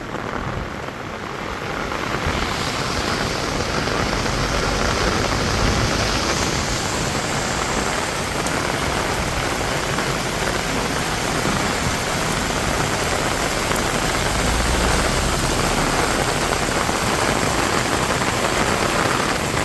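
Heavy rain pours onto the streets of Benidorm as a dense, continuous hiss that swells in the first two seconds, then holds loud and even throughout, with no voices.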